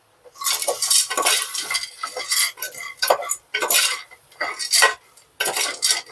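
Macaroni pasta with masala being stirred in a pan over a low flame, repeated loud close scraping and clinking strokes of a utensil in an irregular rhythm, with brief pauses between, no talking.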